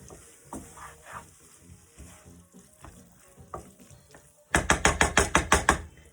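A spoon stirs risotto with smoked mozzarella and parmesan in a pan, giving soft scraping and bubbling sounds. A quick series of loud, rhythmic knocks follows near the end, close and sharp.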